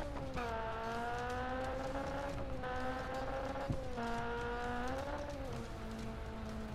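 A Citroen rally car driven in the video game Sébastien Loeb Rally EVO: a steady, loud engine drone that rises and falls in pitch through gear changes, with no talking.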